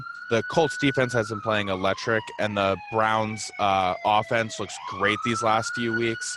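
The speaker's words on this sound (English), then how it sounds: "So sorry about the sirens," Police siren wailing outside, its steady rising and falling tone carrying continuously beneath someone talking throughout about football.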